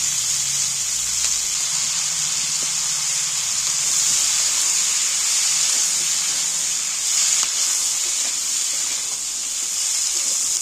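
Fried prawns dropped into hot oil for a Bengali prawn curry with taro and long beans, giving a steady, loud, broadband sizzle and hiss that stays even throughout with no talking.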